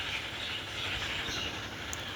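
A train in the Roblox game Dead Rails sends out a steady, loud rumbling roar of wheels and carriage noise, even and continuous, with no talking.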